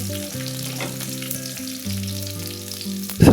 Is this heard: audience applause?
no